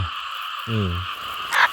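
Frogs croak at night in a rice paddy flooded by heavy rain, a short burst of stacked low croaking calls standing out over a steady background chorus, followed by a brief sharper noise.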